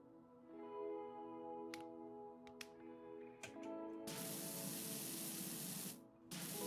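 In PowerWash Simulator a pressure washer sprays a car, starting as a steady hiss after some tonal game music and short clicks and continuing loud and constant until it cuts off briefly near the end.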